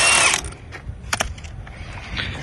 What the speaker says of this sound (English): we're going to take off these 3 bolts right here